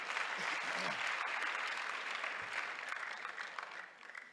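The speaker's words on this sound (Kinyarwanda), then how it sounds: "dukomere Imana amashyi" A church congregation clapping, dense steady applause that holds for several seconds and then tapers off near the end, with a few voices mixed in.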